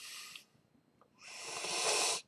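Someone takes two sniffs of a freshly poured Altamont and Henhouse Hella Stoked IPA collaboration, a short breathy inhale followed by a longer, louder drawn-in sniff close to the glass.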